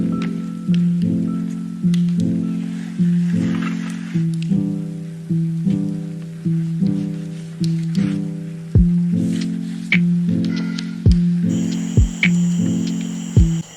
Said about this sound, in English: I'm gonna put in some clips of me diffusing my hair